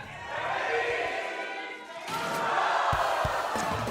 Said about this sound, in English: You love to hear the excited crowd as we get into the first game here.